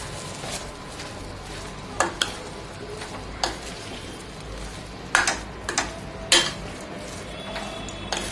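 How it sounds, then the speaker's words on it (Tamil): Mint rice is stirred in a pan with a spoon, giving a quiet bed of faint sizzling under irregular scrapes and metallic clinks that bunch up toward the end, close and with no voices. "நல்லா சாதத்தை கிளறி விடுங்க"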